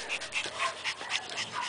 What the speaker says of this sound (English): that one right there panting is Moses.